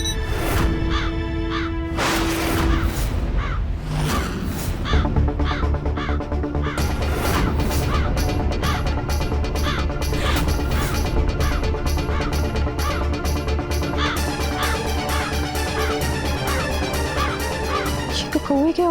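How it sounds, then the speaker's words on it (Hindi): A crow caws indoors inside a house, its repeated harsh calls sounding over a loud, busy bed of music and household noise. "तो कौवे की आवाज लग रही है। ये कौवा घर में घुस गया क्या?"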